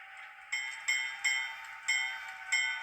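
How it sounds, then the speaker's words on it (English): A model locomotive bell, a ScaleTrains C39-8, rings in five evenly spaced metallic dings, each decaying briefly before the next, clear and fairly faint with no other sounds. "So we're going to ring the bell."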